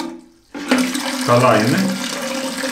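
Water rushing into a toilet cistern as it refills after a float valve adjustment, a loud continuous gush and splash that starts abruptly and keeps running, with a brief spoken remark over it.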